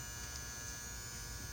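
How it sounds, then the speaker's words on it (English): A Xantrex Freedom 458 inverter's battery charger switching on, giving a steady, low electrical hum and buzz that stays even and fairly quiet throughout. "When I switch the battery charger on,"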